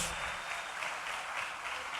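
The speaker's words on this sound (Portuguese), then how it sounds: "Vamos aplaudir o Senhor Jesus Cristo." Steady applause from a congregation during a church service, a dense, even patter of clapping hands sustained throughout without voices on top.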